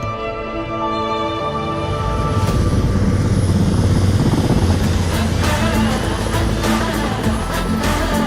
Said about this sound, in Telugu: హెలికాప్టర్ వస్తుంది ఏంటండి?